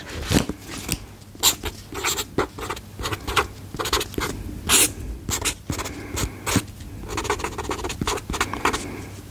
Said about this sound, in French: Je te mets le bruit de l'écriture parce que moi j'aime beaucoup ça aussi.